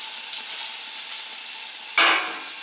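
Chicken brats, potatoes, onions and peppers sizzle steadily on a Camp Chef FTG600 flat top grill, a constant close frying hiss with a sharp scrape of stirring near the end.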